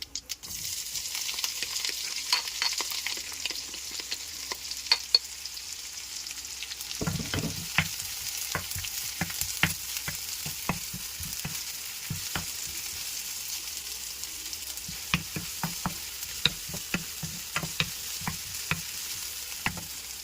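Chopped onion hits hot oil where mustard seeds have already popped, making a steady close sizzle with sharp crackles and spatters for a Kerala-style sardine curry; a louder burst of frying marks the onion dropping in, with no talking.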